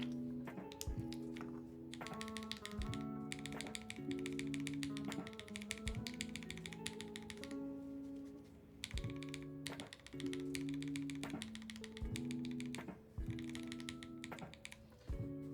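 Typing on a mechanical keyboard with NCR die-sub keycaps, a steady close-up stream of slightly muted key clacks with heavier thocks at regular intervals, continuous throughout.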